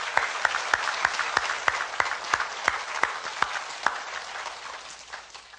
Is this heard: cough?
no